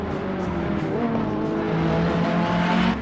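Race cars at Mount Panorama in Assetto Corsa Competizione, a close, loud engine drone with shifting pitch and a rising note as the cars push through a corner.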